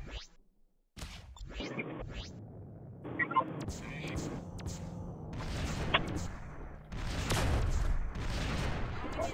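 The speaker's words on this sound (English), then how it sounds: "Trying to shoot a mortar at this guy." Mortar fire and gunshots in a combat video game, with several sharp blasts and bursts scattered across the stretch, loud and close, mixed with game effects and a voice talking over the action.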